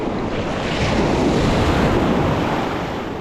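Ocean surf washes steadily onto a 4x4 beach on the Outer Banks of North Carolina while wind buffets the microphone, forming a loud, continuous roar with no voices.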